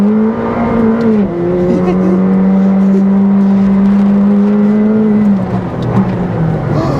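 A McLaren 765LT Spider engine pulls hard under acceleration, a loud, close, sustained roar that steps up in pitch early, holds a steady strained note, then eases down near the end.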